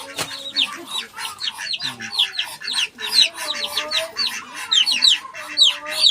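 Rapid, agitated clucking and squawking from a chicken fighting a duck, close and continuous, with bursts of flapping commotion and faint background voices.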